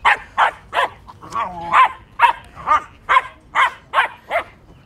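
A happy dog barks in a steady run of about a dozen sharp, high yips, with a brief whimpering whine partway through, loud and close, with no talking.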